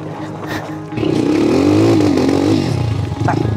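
A motorcycle with its rear wheel half sunk in volcanic sand at Mount Pinatubo idles roughly, then revs hard and steadily for under two seconds before dropping back, loud and close, with a faint voice nearby.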